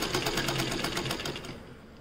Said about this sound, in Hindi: एक पैर की सिलाई लगाते हुए जब भी कपड़े को घुमाना है तो सुई की नोक जो है वो नीचे होनी चाहिए